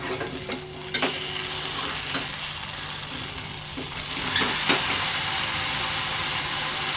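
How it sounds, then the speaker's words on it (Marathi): Sabudana paratha roasting on a hot pan after being flipped, giving a dense, continuous sizzle and crackle with a few spatula taps, steady throughout and slightly louder in the second half, no talking. "पलटी करून घ्यायचं. भाजल्यावर भरपूर भाजून द्यायचं चांगलं."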